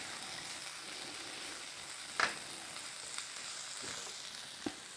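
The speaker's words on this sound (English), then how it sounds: "Letting those cold peas hit the pan" Cold peas hitting a hot pan, a faint steady sizzle with a few soft clicks and pops.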